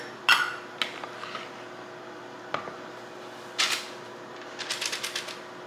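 A metal baking pan and a mixing cup clatter and clink in a kitchen while preparing cookies, with sharp scattered knocks and a final quick run of light metallic taps over a steady background hum.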